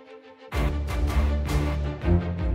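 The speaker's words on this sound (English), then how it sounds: "Next, high staccato strings to add a little bit of action." After a brief quiet lead-in, a full cinematic music mix kicks in with high, short staccato string notes pulsing in a quick, driving rhythm over a low, sustained bed, loud and steady with no voices.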